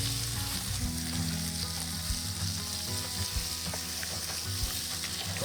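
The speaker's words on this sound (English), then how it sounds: "Just going to stir these shallots, make sure they're okay. We just want them to brown a little bit." Shallots fry hard in a pan, a loud, close, constant sizzle with low rumbling and occasional scraping knocks as they are stirred, with no voices present.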